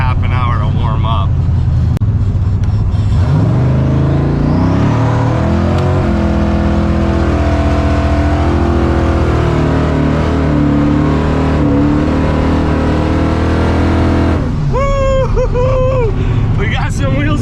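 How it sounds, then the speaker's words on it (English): A car doing a tire burnout on a freezing cold morning of about 25 degrees: the engine revs up hard and holds at a loud, sustained high pitch for several seconds, then drops back, with people talking through it. "Let's see if I can give you a real burnout today."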